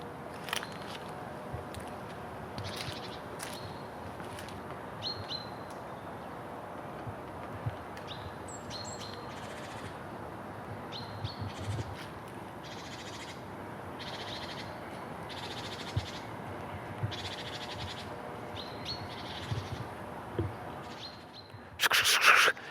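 Great tits call repeatedly in short, high chirps over a steady outdoor hiss in a Kraków forest, scattered through the clip with a louder burst near the end.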